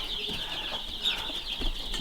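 Chickens on a homestead, a flock including Buff Orpingtons and Rhode Island Reds, cluck softly and steadily close by against a constant high background hiss, with a couple of slightly louder calls near the middle and end.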